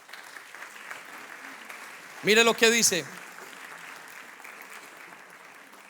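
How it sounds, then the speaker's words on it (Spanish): A church congregation applauds God, a steady wash of clapping from many people throughout, with a voice speaking briefly over it in the middle. "Dele un aplauso a Dios."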